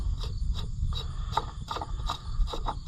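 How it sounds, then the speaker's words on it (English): A wrench turning to remove the hydraulic filter on an Oliver 1755 tractor, heard as quiet, close ratcheting clicks and scraping in a quick, uneven series. "Let's just take the filter off and leave the wrench in place"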